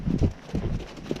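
Horse hooves thud in a soft, uneven rhythm on a trail ride through open country without fences, close and moderately loud.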